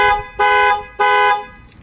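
Panic siren from a Clifford 3105 aftermarket alarm on a 2018 Chevy Silverado, two loud, close, blaring horn-like honks in a rhythmic on-off pattern, with no talking.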